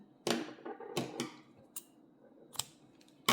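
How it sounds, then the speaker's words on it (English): Scissors snip through crochet yarn while a baby cardigan is being made, giving a few sharp, quiet clicks spaced irregularly across a hushed room with no voices. "Chain 1 and you will cut the yarn."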